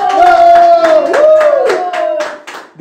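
Scattered clapping from a small studio audience on a television talk show, a series of sharp separate claps running under a sustained sung or voiced tone, fairly close and loud.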